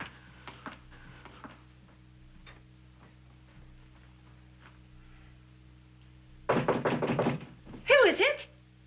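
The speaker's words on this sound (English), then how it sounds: "Janice, was that the door" Several firm knocks on a door at a ranch house, a quick cluster of raps standing out clearly over a quiet room with a low hum, after earlier talk and before a brief voice.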